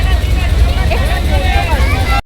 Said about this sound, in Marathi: इथं खूप जास्त गर्दी आहे